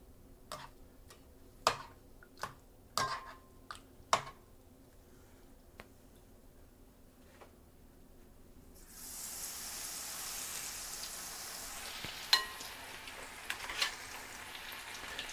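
A few sharp clicks and taps, then a sudden steady crackling hiss as beer-battered onion strings hit hot oil and begin deep frying on a stovetop, growing busier with scattered pops.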